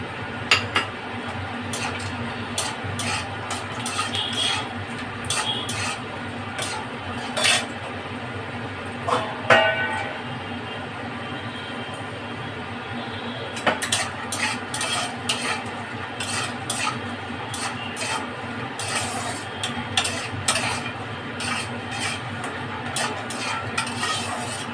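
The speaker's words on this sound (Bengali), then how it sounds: "বড়িগুলোকে একটু ভেজে নেবো" Bori lentil dumplings fry in mustard oil in a kadai while a utensil stirs them, giving repeated scraping and clinking strokes over a soft continuous sizzle, close and moderately loud.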